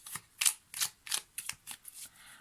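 Tarot cards being shuffled for a card reading, giving a series of soft, papery riffling bursts in an uneven rhythm, close and fairly quiet, with no voices.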